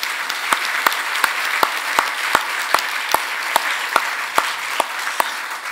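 Steady applause at a breast cancer medical conference honours the German Cancer Prize winners, a dense wash of clapping marked by sharp, evenly spaced loud claps recurring about twice a second.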